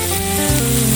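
Fish fillet sizzling on an Aldi flat-top griddle as it is flipped, a loud steady frying hiss with a brief shift as the piece turns over.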